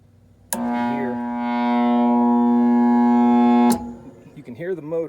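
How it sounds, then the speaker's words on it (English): A gas furnace blower motor hums loudly and steadily for about three seconds without spinning up, a buzzing electrical drone that cuts off abruptly, followed by a brief voice. "you can hear the motor, but there's no action"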